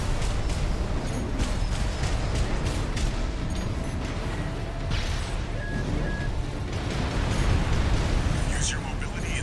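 Rumbling booms and crashing blasts from ground explosions in the mech combat game Armored Core VI roll continuously under a dense low roar, with a voice speaking over the din.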